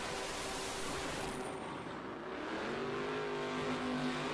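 A 2JZ-engined import drag race car makes a pass at an Import vs Domestic event, its engine roaring at full throttle with a rising pitch as it accelerates down the strip.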